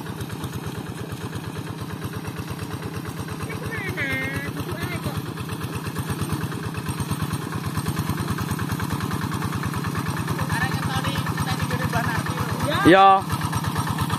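A tractor engine idles steadily nearby with a rhythmic low chug throughout, while voices talk briefly over it.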